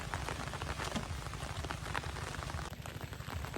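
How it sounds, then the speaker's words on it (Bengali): Steady rain pours down at a riverside boat landing, a dense, even hiss of drops on the surfaces all around that never lets up. "বৃষ্টি কিন্তু সমানে হয়ে চলেছে"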